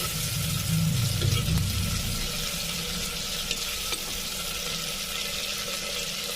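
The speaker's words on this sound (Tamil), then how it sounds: "வெங்காய தக்காளியெல்லாம் வதங்கிடுச்சு" Chopped onions and tomatoes sauté in a clay pot, giving a loud, continuous sizzle with occasional stirring scrapes close by, with no talking.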